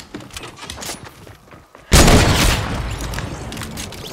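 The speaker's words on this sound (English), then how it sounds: "Heavy sniper." A heavy sniper rifle in Fortnite fires one loud, close shot that booms and rolls on, following a quieter stretch of faint game sounds.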